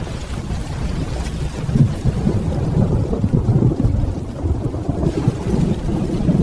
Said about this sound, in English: Guess the storm won this round.